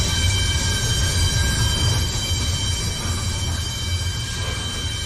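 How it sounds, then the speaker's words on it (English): A loud train rumbles past continuously, with a steady low roar and a hiss of rail noise throughout and no talking heard. "Could you tell the train to be a little bit more quiet?"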